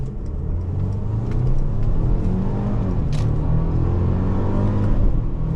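The engine of a 2022 Mercedes-Benz GLC 300 with a 9-speed automatic, driven in manual mode with paddle shifters, revs from inside the cabin: a loud, steady mid-pitched drone that builds slightly, with no talk over it.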